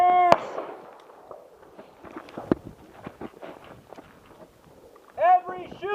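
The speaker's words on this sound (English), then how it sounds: "Every shoot command gets 2 rounds. Control pairs only. Shoot!" Sharp gunshots ring out at a tactical firearms training range, sharp isolated cracks spaced through the stretch, with a shouted voice giving commands at the start and end.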